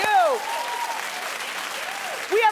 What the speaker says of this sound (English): Keep clapping, everybody.